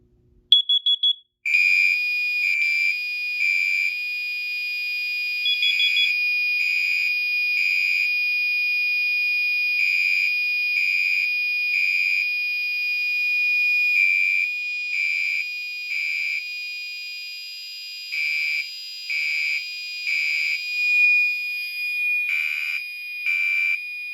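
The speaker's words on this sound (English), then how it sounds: "We have not tested the carbon monoxide detector in quite a while, so I figured we would go ahead and activate that today." A carbon monoxide detector sounds during a test, a loud, close, piercing electronic tone that beeps in steady repeated bursts for over twenty seconds after a brief chirp at the start, with no talking.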